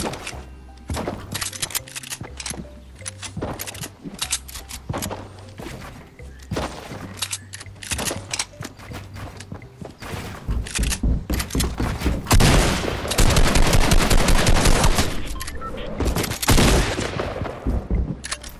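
Rapid SMG bursts in Fortnite, loud and close, with repeated short volleys in the first half giving way to dense, sustained firing and impacts in the second half, with no voices over it.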